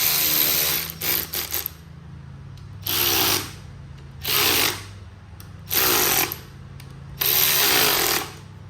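An 8mm socket on a ratchet snugs up valve cover bolts on a Chevy LS engine. Several loud, close bursts of rapid ratchet clicking come in separate runs of about a second each, with short pauses between them and no talking.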